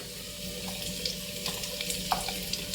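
Water poured into a pan of cut onions frying with chopped garlic for chilli chicken, a steady splashing and bubbling wash with faint sizzle, close and moderately quiet, no voices.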